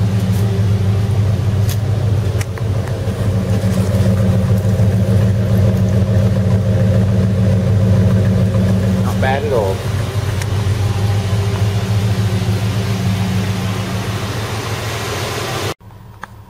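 A 1978 Ford LTD's engine idles with a steady low rumble and loud broadband drone that runs on until it cuts off near the end, while someone talks briefly over it.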